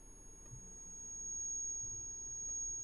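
After an in-game explosion in Batman: Arkham Asylum, a thin, steady high-pitched ringing tone hangs over a faint low rumble, imitating tinnitus for the whole stretch.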